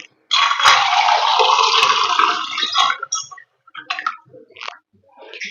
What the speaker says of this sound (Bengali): এরপর ছানাটাকে আমি একটু জল দিয়ে ধুয়ে নিচ্ছি